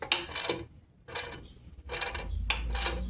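A jack lift is cranked under a 2002 Harley-Davidson Dyna Super Glide FXD, with short bursts of mechanical ratcheting and clicking separated by brief pauses, moderately close and fairly quiet.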